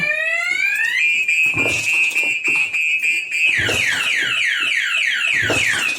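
A loud V12 motorcycle security alarm on a Honda CB150R sweeps up then holds a piercing tone before cycling into rapid repeated whooping chirps, close and continuous.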